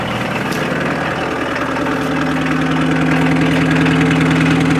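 An old VW Rabbit diesel engine idles steadily up close, a loud, rough, tractor-like clattering rumble that holds constant throughout.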